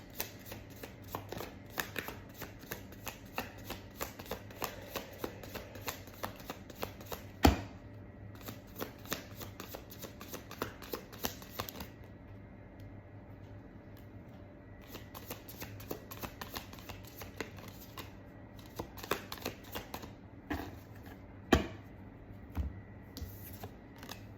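Tarot cards shuffled by hand during a reading, a steady stream of soft riffling and slapping card sounds with occasional sharper snaps, close and quiet, with no talking.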